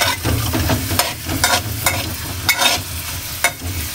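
Onions sautéing in a pan for Filipino menudo sizzle steadily while a utensil stirs and scrapes in regular strokes, close up and without talk.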